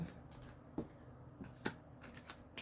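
A deck of tarot cards being shuffled in a big shuffle, quiet scattered riffles and taps with a few sharper snaps, close but soft.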